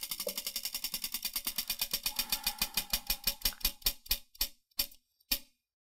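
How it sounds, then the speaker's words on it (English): A prize wheel spins with rapid, even ticks that gradually slow and spread apart, then stop after about five seconds. Close and clear, with no talk. "Spin the wheel."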